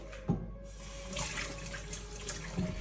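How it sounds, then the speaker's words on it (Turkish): Hands are washed under a running kitchen tap, with a soft, steady stream of water and a couple of brief splashes at the start and near the end. "Şu elimi de yıkayayım."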